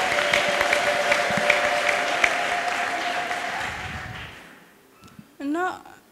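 Congregation applauding in a church service, a dense steady wash of many hands clapping for over four seconds before fading out, followed by a brief voice at the end.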